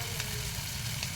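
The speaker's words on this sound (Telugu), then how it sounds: "అల్లం వెల్లుల్లి పేస్ట్ అండి. వేగిని చూసారా, గోల్డ్ కలర్ వచ్చింది." Ginger garlic paste fries in hot oil for a prawn curry, making a continuous soft sizzle with light crackles close by.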